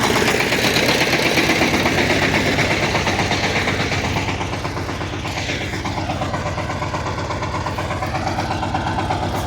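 A Shifeng 354 tractor engine labors loudly and close while ploughing a steep hillside field, a steady throbbing diesel drone with a rapid knocking pulse that holds for the whole stretch, with no speech over it.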